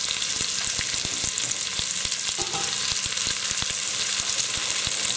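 Onions and celery sizzle steadily in a hot pan for chicken chasseur, a dense continuous hiss with scattered crackles and soft stirring clicks throughout, fairly close and with no talking.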